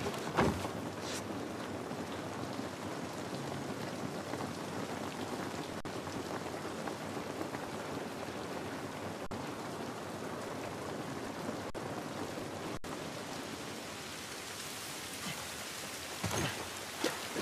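Steady rain in the video game The Last of Us Part 1 falls on surfaces in a continuous patter, moderately quiet, with a few brief knocks and no talking.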